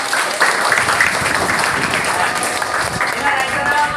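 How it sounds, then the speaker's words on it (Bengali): Classroom applause for a student in a simulation class, a steady, dense patter of many hands clapping at close range that carries through the whole stretch with no break. "ওর জন্য একটা জোরে হাততালি।"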